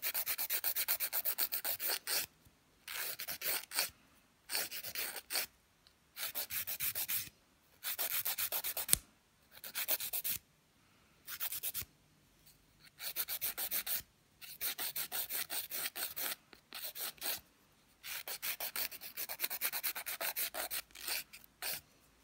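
Hand file rubbing back and forth across small pieces to shorten them to equal length during a map-case rebuild, rhythmic bursts of rasping strokes separated by short pauses, close and steady with no talk.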